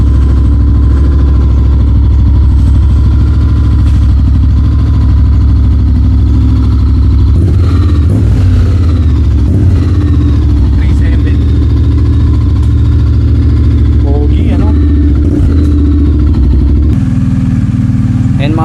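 A Honda X-ADV scooter engine idles steadily with a low, continuous rumble throughout, while people talk nearby over it.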